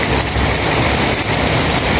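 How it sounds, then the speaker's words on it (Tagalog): Heavy rain pours down in a dense, loud, continuous hiss with no pauses, close and steady throughout. "Pag malakas lang po yung ulan,"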